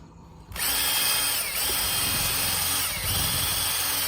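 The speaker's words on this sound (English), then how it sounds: "I'm going to be stirring it, not by hand, but with a drill with a paint stirrer attachment" A power drill with a paint stirrer attachment whirs up after a brief quiet moment and runs continuously, its pitch dipping slightly a couple of times as it churns paint.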